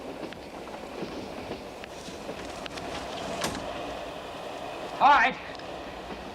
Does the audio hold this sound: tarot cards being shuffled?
no